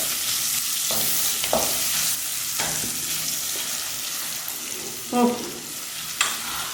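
Tomatoes fry in a pan for a fish milk curry, a steady soft sizzle broken by a few sharp scrapes and clinks of stirring, moderately quiet with no voices.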